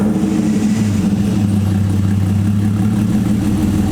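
An RB20-engined car runs steadily after starting, its close mid-pitched engine drone holding an even idle with a slight rise in tone partway through, alone without voices.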